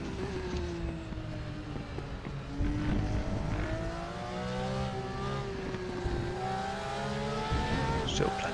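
Porsche 911 GT3R race cars running at the Nurburgring GP circuit, engines revving and shifting through rising and falling whines, several cars close together and loud, with a commentator talking over them.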